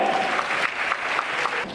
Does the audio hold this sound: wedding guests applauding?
yes